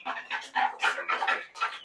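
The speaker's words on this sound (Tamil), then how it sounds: "இதுதான் நம்ம சிறுவடை கோழி" Native siruvidai chickens clucking at a small farm, a busy run of close, overlapping clucks and short calls from several birds, moderately loud with no talking.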